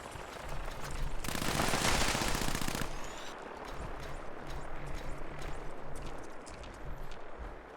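A legendary super mutant in Fallout rakes out a loud, continuous minigun burst over roughly a second and a half, followed by a dense rumble of ongoing battle noise and distant rotor-like machinery.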